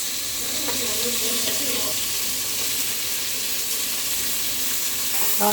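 Tomatoes fry in a pan for khichdi, giving a constant close sizzle with faint stirring scrapes early on and a small clack of a utensil at the very end.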